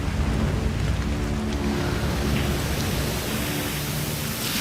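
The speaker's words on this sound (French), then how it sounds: "Il pleut intensément depuis la veille au soir." Heavy tropical rain pours down steadily in the Philippines, a dense, continuous hiss of downpour with a low rumbling undertone, loud and unbroken with no voices.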